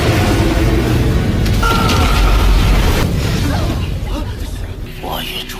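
A large explosion blasts through an animated Renegade Immortal fight between Wang Lin and Tao Shen: a loud, dense boom with a sustained rumbling roar that slowly thins out toward the end.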